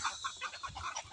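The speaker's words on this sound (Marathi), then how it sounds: "सगळ्या कोंबड्याच आहे मित्रांनो" Chickens on a poultry farm cluck in a steady, overlapping chorus of short, repeated calls, close and moderately loud throughout.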